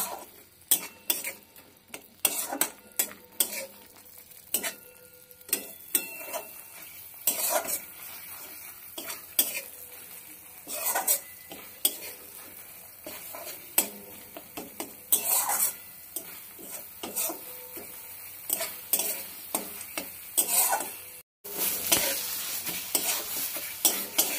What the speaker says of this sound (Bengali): যতক্ষণ মশলা থেকে তেল না ছাড়ছে ততক্ষণ সমানে কষিয়ে নেব